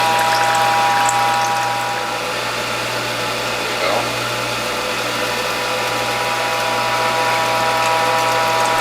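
A WHF hydraulic juicer press being slowly advanced while pressing tomato juice: a continuous mechanical hum and drone with steady tonal whine and a brief creak midway, loud and close.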